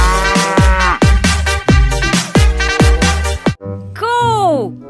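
Cartoon cow in a dinosaur-themed video game lets out a series of short, loud repeated moos in a steady rhythm, followed by a longer bending call at the end.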